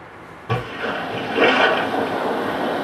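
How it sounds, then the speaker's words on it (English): A sudden splash of someone jumping into water in a played scenario, a sharp impact followed by a rushing, churning wash that swells and slowly fades. "So you've jumped into the water."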